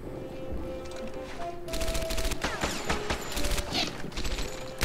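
Tommy gun fire in Medal of Honor: Airborne, with a quieter stretch giving way to loud, rapid automatic bursts and scattered shots layered with battle noise, no speech.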